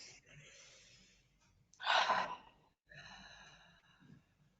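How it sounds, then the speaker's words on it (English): Deep breathing during a guided forgiveness session: a soft inhale, then a loud, long, close exhale, followed by quieter breath sounds. "And then breathe."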